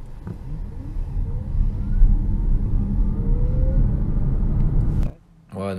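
A DS3 Crossback E-Tense Performance Line electric car accelerates from a standstill to 50 km/h, giving a steady low road and motor hum with a faint rising whine for about five seconds before cutting off abruptly; a voice speaks at the end.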